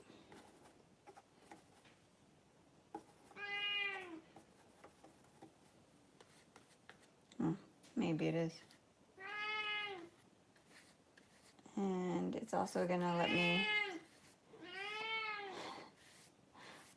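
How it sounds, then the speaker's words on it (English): A domestic cat meows several times, a series of clear, fairly close cries spread across the stretch with short gaps, while a person speaks briefly between the calls in a quiet indoor room. "I am really sorry about my cat."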